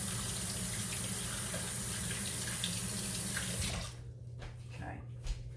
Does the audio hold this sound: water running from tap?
yes